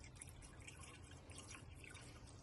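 Coolant being poured into the radiator of a 2009-2020 Dodge Journey during a hose replacement, a steady faint trickling and dripping of liquid heard alone and close.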